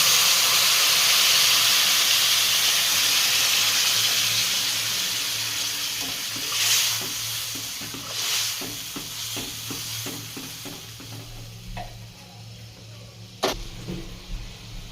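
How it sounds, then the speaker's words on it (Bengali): Warm water pours steadily into a hot pan of potato and cauliflower curry with rohu fish, a broad rushing hiss that fades into soft sizzling and faint clinks. "ঝোলের জন্য দিয়ে দেব একটু উষ্ণ গরম জল"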